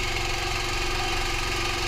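A boat's engine runs steadily at idle, a close, even, low-pitched throb with a fast knocking pulse and faint vibration rattle, no voices.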